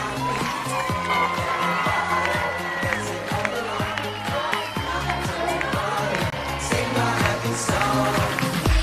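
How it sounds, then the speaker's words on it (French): A crowd claps and cheers at the closing ceremony of the JIJ Athens 2024 games in Grammatiko, Greece, with steady rhythmic clapping and loud, continuous cheering over a pulsing beat. "On peut les applaudir très fort."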